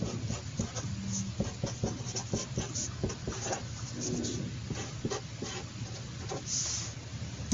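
Chalk or marker scratches out math on a board in a classroom, a quiet run of short strokes and taps in uneven bursts, close by, with no talking.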